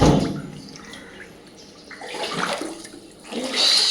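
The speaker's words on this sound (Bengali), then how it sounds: "আমাদের ফ্ল্যাটের মধ্যে পুরো জল ঢুকে গেছে" Floodwater flowing and sloshing inside a flooded flat, a steady watery rush that swells louder near the end, with no voices present.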